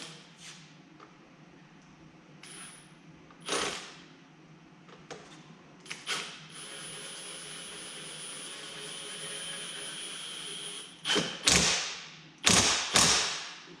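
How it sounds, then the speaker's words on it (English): A pneumatic impact gun running a part into a GPZ Turbo motorcycle fork during a rebuild: faint workshop hum and light taps, then three short, loud rattling bursts close by near the end. "Once it's started, I'll run it the rest of the way in with the gun."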